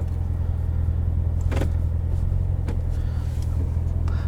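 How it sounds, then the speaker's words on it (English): A 2019 Chevrolet Corvette Z06 convertible with an automatic transmission, driven in track mode, gives a steady, close, low engine rumble from inside the car, with a few faint clicks and no talking. "Driving it in track mode"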